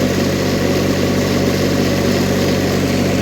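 A GAB-4 diesel generator engine runs steadily, a loud, close, even drone with a strong low hum and constant mechanical rattle, unchanging throughout and with no voices.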